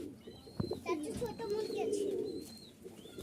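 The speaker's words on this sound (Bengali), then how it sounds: "তো এই হচ্ছে সব কবুতর, যাদের যেটা ভালো লাগে।" Giribaz pigeons cooing nearby, a soft low rolling coo rising and fading over a couple of seconds, with thin chirps from other birds in the background.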